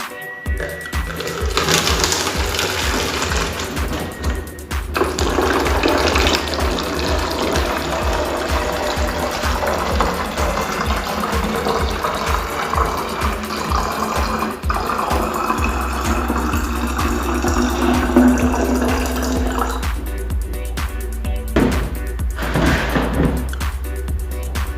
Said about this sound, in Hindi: फिर इस बोतल में आधे से थोड़ा कम पानी भर लेंगे।